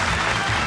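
Studio audience applause on a Taiwanese TV variety game show, a steady, dense wash of clapping filling the short moment without a break.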